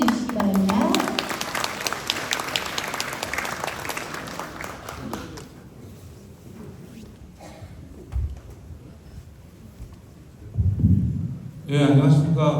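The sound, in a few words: audience applause welcoming a speaker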